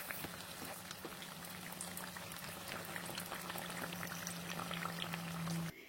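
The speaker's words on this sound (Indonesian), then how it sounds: "Goreng martabak tahunya dalam minyak panas, api sedang, cenderung kecil ya teman-teman." Tofu martabak deep-frying in hot oil over a medium-low flame gives a quiet, steady bubbling and crackle with a faint low hum beneath, ending abruptly.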